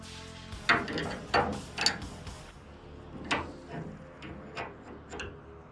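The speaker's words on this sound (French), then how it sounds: "il faut serrer notre rotule" Ratchet wrench tightening a suspension ball joint on a car, giving short bursts of metallic clicks in several separate groups, close and fairly loud, with no talking.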